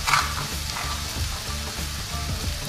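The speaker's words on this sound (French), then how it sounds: "Je vais ajouter maintenant les morceaux de tomates. Je vais faire cuire sur feu moyen pendant 3-4 minutes." Tomato pieces frying in a pan over medium heat for chicken handi, a constant close sizzle with faint stirring, no voices.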